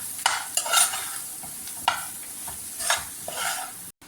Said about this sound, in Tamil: அடுப்பை சிம்மில் வச்சுட்டே கிளறலாம்.